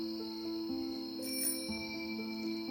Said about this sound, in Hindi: इसी वक्त बाहर घंटी की आवाज सुनाई दी।